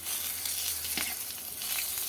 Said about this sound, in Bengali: সব আলাদা আলাদা করে সব নিয়ে ভেজে ফেলছি